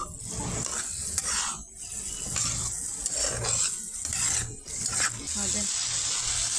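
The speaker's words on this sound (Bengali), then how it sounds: "এখন ভালোভাবে নাড়াচাড়া দিয়ে নিচ্ছি" A spoon stirring tomato chutney with green chillies in a pan, continuous scraping and sizzling close up, steady and loud throughout.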